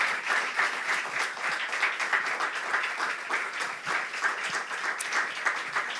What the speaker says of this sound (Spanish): para lo que os pido un aplauso